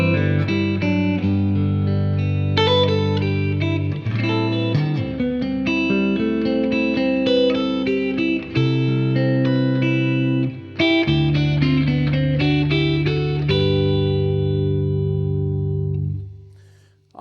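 A Yamaha Revstar electric guitar tuned to open G and played at full volume with the tone control maxed, giving bright, sustained strummed chords with effects that ring steadily and close, then fade out at the end with no talk.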